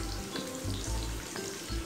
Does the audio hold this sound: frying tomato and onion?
yes